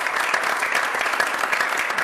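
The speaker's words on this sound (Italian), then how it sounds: "L'applauso ancora a Junior" Steady applause fills the room for a futsal player after seven goals, a dense continuous patter of many hands clapping at an even, fairly loud level throughout.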